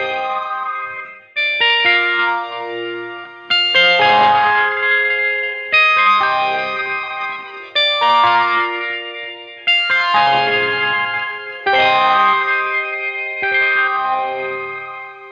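Electric guitar slowly picks triads through an effects patch thick with chorus, distortion and echo, each chord arriving roughly every two seconds and ringing out into shimmering repeats, loud and alone.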